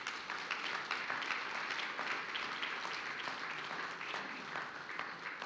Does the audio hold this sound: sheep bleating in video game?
no